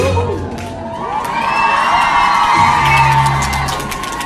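A concert crowd at a Jyväskylä hip-hop show at Lutakko shouts, whoops and cheers in a loud, sustained roar that swells toward the middle.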